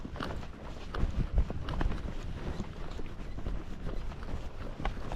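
Rocky Mountain Horse hooves on a hard dirt road, close, steady clip-clop footfalls in an even gait over wind and outdoor rumble.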